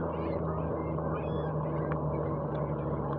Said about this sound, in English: Lots of geese.